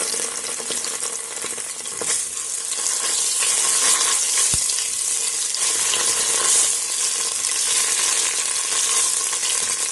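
Onions and tomato paste sautéing in a pan for an Ivory Coast style fisherman's soup, a loud continuous close sizzle and frying hiss with faint stirring scrapes and no speech.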